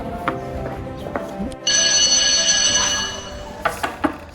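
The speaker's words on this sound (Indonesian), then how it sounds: "Bentar lagi bel." A school bell rings loudly for about a second and a half as a steady electric clang, preceded and followed by scattered clicks and knocks indoors.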